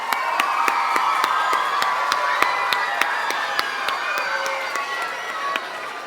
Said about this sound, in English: Can we please give them a wonderful round of applause?